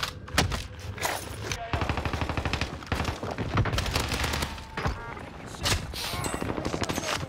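Rapid automatic gunfire in the Call of Duty Warzone battle royale on Rebirth Island, including the Bullfrog submachine gun, with dense bursts, sharp cracks and distant shots layered almost continuously, loud and busy throughout.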